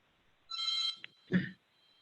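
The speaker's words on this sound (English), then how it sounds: "Everybody's phone's probably going off right now." A phone rings during an online public board of education meeting, giving a short electronic ring burst followed by a brief chime, faint and isolated.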